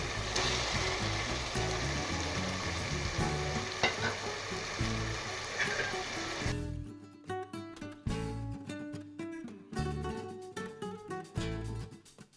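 Goan pork chorizo sausage fries loudly in a single pot for a pulao, a dense crackling sizzle with stirring, then the frying drops away under music.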